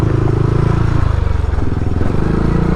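Yamaha Nmax 155 scooter ridden on a muddy road, a loud, close, steady engine drone with rhythmic throbbing and rattling along the ride.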